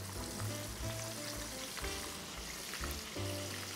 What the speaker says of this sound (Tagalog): the oil is hot, and then you deep fry it.